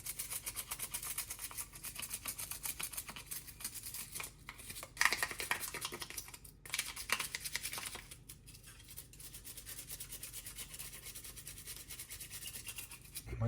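A brush scrubs a PS3 controller shell during cleaning, giving a quiet, continuous rhythmic scratching that carries on for over ten seconds with brief pauses and no talking.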